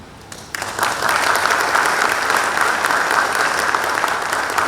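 A crowd at a baseball coach's inauguration ceremony for the NC team breaks into steady, dense applause after a brief quiet start, the clapping continuing loud and even throughout.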